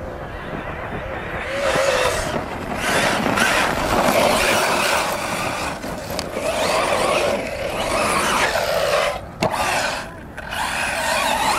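A Corally Sketer RC car fitted with a 16-tooth pinion drives around, its electric motor whining and rising and falling in pitch through revs and bursts of speed, loud and fairly close, with a brief drop-out partway through.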